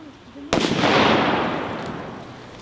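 A booby-trap grenade explodes during humanitarian demining: a sudden sharp blast followed by a loud, rolling roar that slowly fades over a couple of seconds.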